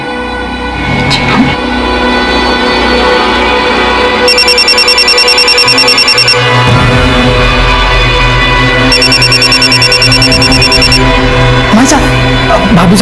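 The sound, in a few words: phone ringing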